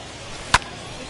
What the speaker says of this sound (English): Hit well down the left field line, but back into the crowd, foul.